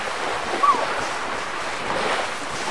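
Sea waves in a children's learning game wash in as a soft, steady surf hiss with a gentle swell near the end and a brief chime-like blip early on.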